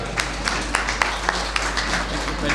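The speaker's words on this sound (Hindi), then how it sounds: "खड़े होकर एक बार जोरदार तालियां बजाएं" Audience at a Jyotiba Phule birth anniversary event in Kurukshetra giving a standing ovation, with scattered, fairly sparse claps sounding moderately close and steady throughout.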